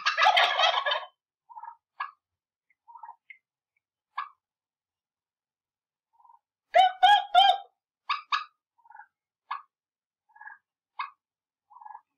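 Domestic turkeys raised by a person gobble in repeated rattling bursts, one loud close burst at the start and a burst of several around the middle, with softer scattered clucks and calls between.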